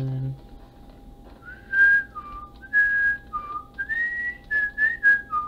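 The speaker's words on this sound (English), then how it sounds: "For some reason I like to whistle a lot." One person whistles a simple melody of clear sustained and sliding notes, several short phrases in a row separated by brief pauses, close and loud over a quiet background hum.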